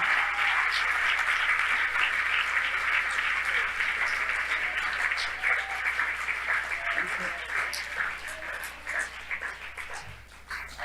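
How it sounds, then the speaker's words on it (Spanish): A church congregation applauds at a worship service, a steady dense wash of clapping that holds loud for most of the span and thins slightly toward the end, with faint voices mixed in. "Dele el aplauso al Señor."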